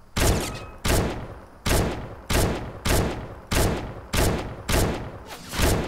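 Gunfire from a gun in the mobile game Fortnite Mobile: nine loud, evenly spaced single shots about two-thirds of a second apart, each a sharp crack with a short decaying tail, heard close with no talk over them.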